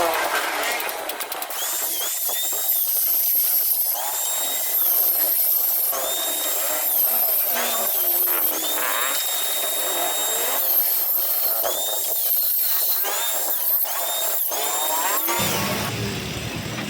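A power tool cuts into a motorcycle exhaust pipe to get at the catalytic converter inside, a steady high whining grind running almost without break and stopping near the end, with a voice talking over it.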